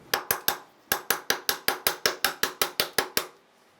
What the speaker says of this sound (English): Give this a couple of taps, see if we can seat and push our axle backwards